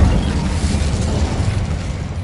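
Incendio fire spell cast in Hogwarts Legacy, a loud, dense, rumbling burst of flame with a low booming roar that holds steady before easing slightly, no voices.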